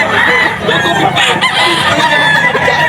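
A Sweater Gilmore gamefowl rooster crows in a dense, noisy yard among other chickens and clucking fowl, with a steady backdrop of loud, overlapping bird calls and a faint voice nearby.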